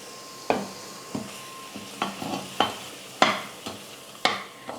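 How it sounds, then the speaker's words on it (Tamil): A gram flour and milk mixture for laddu is stirred in a pan, a spoon scraping the bottom in about eight separate strokes, each a sharp scrape that trails off. A faint sizzle runs underneath, and no one speaks. "கொஞ்சம் கொஞ்சமாக பால் சேர்த்து நம்ம கலந்து கொடுத்துக்கலாம்."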